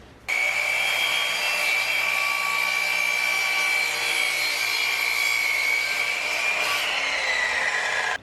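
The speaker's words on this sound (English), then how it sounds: "I'm going to go ahead and use my saw to cut out some of the extra material here" A power saw cuts off excess wood from a Forstner bit holder build, a loud steady whining buzz that holds its pitch for about eight seconds before stopping abruptly.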